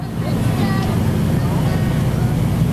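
A Monte Carlo modified race car with a 355 Chevy engine takes the checkered flag at Claremont Speedway, its steady, loud engine roar filling the track with a constant low rumble under a voice.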